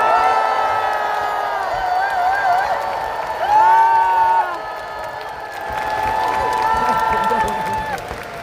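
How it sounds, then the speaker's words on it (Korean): Crowd at a Democratic Party presidential nominating convention applauds and cheers for two candidates, a loud sustained swell of clapping and shouts that rises mid-clip, with voices and whoops mixed throughout. "우리 두 분 후보님께 뜨거운 격려의 박수를 부탁드립니다."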